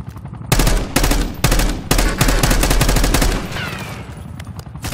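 Automatic gunfire rattles in a Black Ops 6 Domination match, loud and close, in several rapid bursts separated by short pauses before fading into a lighter tail of distant shots.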